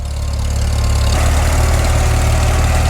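Old M-M tractor engine running in icy conditions, a loud, steady low rumble with a continuous throb close by, no talking.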